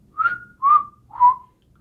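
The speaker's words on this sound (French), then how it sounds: "il sifflotait" A narrator whistles a cheerful little tune for a snail in a children's tale, three clear falling notes, close and alone, each gliding gently downward.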